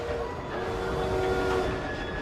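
A steam-era train in Assassin's Creed Syndicate rolling along, a steady dense rumble with a faint sustained whistle-like tone running through it, close and continuous for a couple of seconds.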